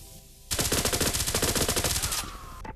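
Rapid automatic weapon fire in the Larcenauts VR game rattles out in one loud, fast burst of evenly spaced shots lasting about a second and a half, then cuts off with a brief electronic tail.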